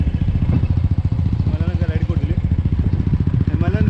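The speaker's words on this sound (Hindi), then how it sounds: "हिमालयन राइड करी" Royal Enfield Himalayan motorcycle engine thumping at a steady, rapid single-cylinder beat, loud and close throughout, with a voice talking over it.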